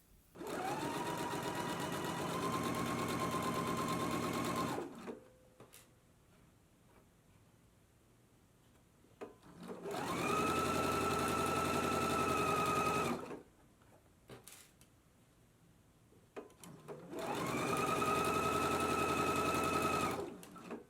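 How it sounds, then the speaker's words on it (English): A sewing machine stitches the shoulder seam of a jumpsuit at a 3/8 inch seam allowance, whirring in three steady bursts of several seconds each, separated by quiet pauses. "I'm gonna go ahead and stitch it at a 3/8 of an inch seam allowance."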